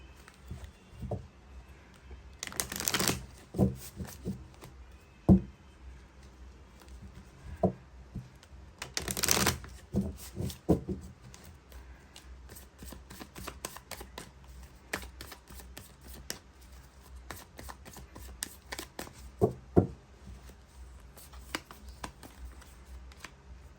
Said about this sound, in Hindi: देखते हैं ऑरेकल से अब क्या निकल कर आता है।